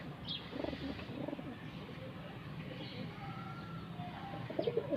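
Fancy pigeons cooing softly in a loft, low murmuring coos under a bed of rustling and background noise, with a few sharper calls toward the end.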